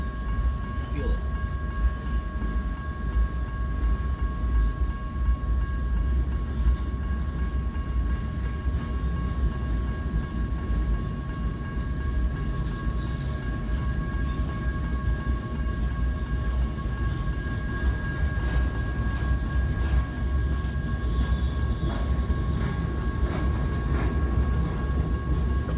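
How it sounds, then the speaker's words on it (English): Freight train rolling past at close range with a loud, continuous low rumble and a steady mechanical drone of cars, including Union Pacific boxcars from Trinity Rail, sustained throughout. "This is just a normal freight."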